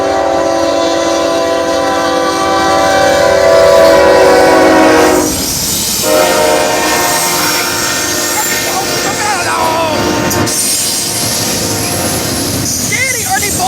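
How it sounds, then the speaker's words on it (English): A long freight train passes close by with a loud horn blast at first, then the rumble and clatter of rail cars rolling past while people talk nearby. "This is a super long train"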